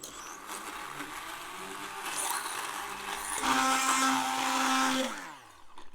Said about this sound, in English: we're going to use the blender and get everything sorted out well and smooth